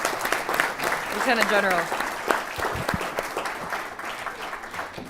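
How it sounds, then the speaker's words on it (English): Audience applause fills a City Club forum on veterans and the U.S. armed forces, a steady clapping wash with a voice speaking briefly over it. "A round of applause for"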